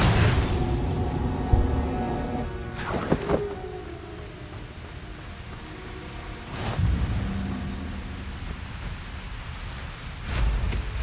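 A Confringo blasting curse in Hogwarts Legacy sets off dull booming bursts over a steady rumbling game background, with a few heavier low thuds spaced several seconds apart.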